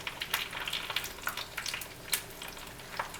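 Fried peach pies sizzle and crackle steadily in hot grease, with small irregular pops and spits close by and no voices.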